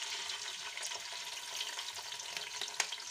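Onions frying in hot ghee in a karahi, a steady broad hiss with faint crackles throughout and one brief sharper pop near the end, close and moderately loud with no talk.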